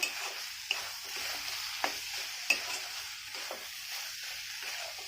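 Steady close sizzle of a jackfruit, bhetki fish and potato cutlet filling frying in a pan, with a few sharp stirring clicks and scrapes breaking through at intervals.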